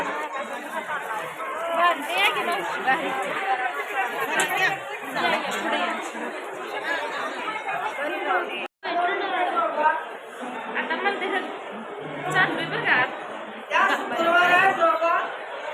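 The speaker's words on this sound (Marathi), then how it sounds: "आज शुक्रवार असल्यामुळं गर्दी भरपूर आहे" A large, dense crowd chatters continuously at the Ambabai temple on a busy Friday, with many overlapping voices and occasional chuckles filling a steady babble, close and loud throughout apart from one brief dropout.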